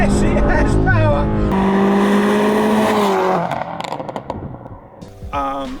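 A big-turbo Subaru Outback XT wagon running E85, making about 450 wheel horsepower, pulls hard on boost with a rising engine note that climbs, breaks off, then surges again, loud and close.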